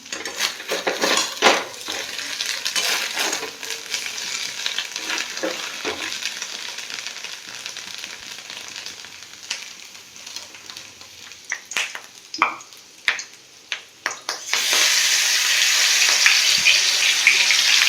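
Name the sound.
spices frying in hot oil in wok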